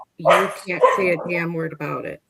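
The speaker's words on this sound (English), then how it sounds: "Whose dogs are those? Whose dog is that?" Dogs bark during a tense outdoor confrontation, their yips and barks mixed under a man's loud, continuous talking for about two seconds.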